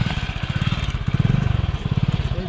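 A motorbike ridden by two friends heading to Rampura to buy vegetables, its engine thumping in a steady, rapid low pulse close by, with no talk over it.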